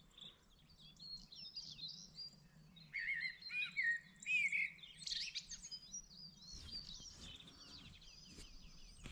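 Small birds chirp and twitter in quick, overlapping bursts, fairly close and moderately loud, with a low steady hum underneath and no talking.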